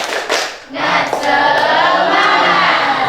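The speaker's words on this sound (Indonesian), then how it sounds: "Coba tepuk semangat." A classroom of children doing a rhythmic spirit clap: a few quick hand claps open it, followed by loud group chanting and shouting, all close and energetic.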